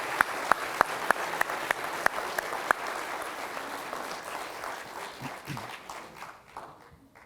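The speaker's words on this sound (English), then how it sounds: "let's give them another round of applause." Audience applause at a Titusville Fire Department pinning ceremony, a dense crowd of clapping that starts loud with a few sharp claps standing out, then gradually thins and fades toward the end.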